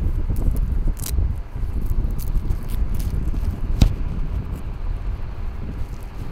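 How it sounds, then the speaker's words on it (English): An electric fan blows on a Q Mini shotgun microphone fitted with a windscreen and wind muff, giving a steady, fairly loud broadband whir with a few faint clicks and no speech. "you can still hear the fan cranking, but no wind noise at all. Just the noise of the fan."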